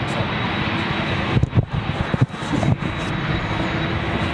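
Jet aircraft at London Heathrow airport, a loud broad engine roar filling the air with wind buffeting the microphone and a few bumps of handling noise.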